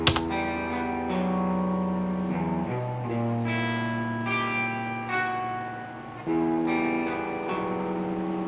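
Electric guitars play sustained chords with a slightly out-of-tune, wavering quality, clean and dry, changing chords every couple of seconds.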